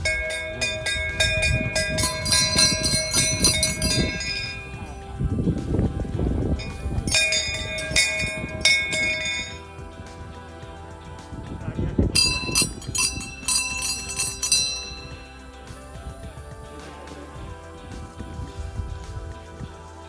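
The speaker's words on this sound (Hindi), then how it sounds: "घंटी बजाते हैं।" A temple bell is rung repeatedly in clanging bursts on the Rudranath Kedar pilgrimage trail in the Himalayas. Several ringing clusters come close by, their bright metallic tones decaying between strikes, with outdoor ambience in the background.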